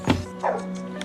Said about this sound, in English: except an angry-sounding dog